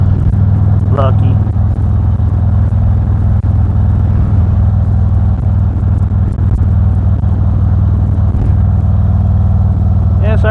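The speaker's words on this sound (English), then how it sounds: "Yeah, sorry about the bumping." A car rolls along a rough road near Sturgis with a constant low rumble and engine drone and faint jolts underneath, while people chat over it.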